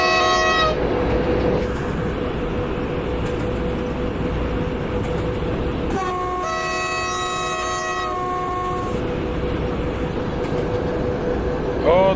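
An EU07 electric locomotive in the MaSZyna train simulator game sounds its horn twice, a short blast at the start and a longer sustained tone in the middle, over steady rolling rail noise.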